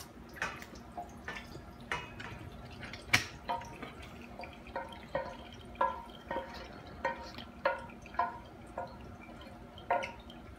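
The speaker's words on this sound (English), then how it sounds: "once you get the 3 pounds of hamburger meat all browned up, you're gonna wanna drain that" Grease drips and trickles out of three pounds of browned hamburger meat as it drains, giving soft, faint, fairly regular liquid plops about once a second.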